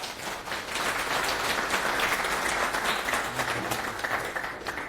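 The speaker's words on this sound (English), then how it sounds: "Let's give another round of applause, everyone." Steady applause from an audience closes a conference talk on porting the Reticulum mesh networking stack from Python to Rust. Many hands clap in a sustained, even wash for several seconds and then start to thin out.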